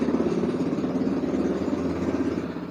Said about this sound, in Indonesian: kenapa sih kalian tuh harus beli motor yang knalpotnya begitu?